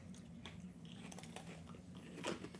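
Crunchy biting and chewing of a snickerdoodle Oreo cookie coated in sugar crystals, close up, with a few crisp crunches over a steady low room hum and no talk.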